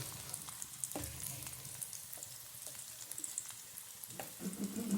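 Spices crackle and sizzle in hot oil as a tempering for a traditional Kerala dish, a close, steady frying hiss broken by small pops and a few stirring clinks, with no voices.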